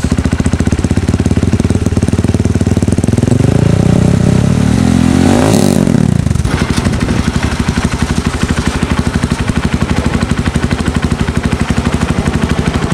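A motorcycle engine running steadily after remote tuning of a Juken 5 ECU, loud and close with a fast, even pulsing beat, a rising rev swell near the middle, then settling back to a smooth idle.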